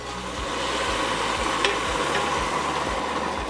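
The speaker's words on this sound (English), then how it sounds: "I'm going to stir up my vegetable stock" A ladle stirs vegetable stock in a pot, giving a continuous soft liquid swishing with faint clinks, heard up close and alone.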